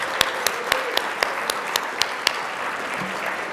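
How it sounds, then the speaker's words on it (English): Audience applause at a banquet with a wash of many hands, plus a few sharp, evenly spaced claps standing out close by, steady throughout. "Please give them a round of applause."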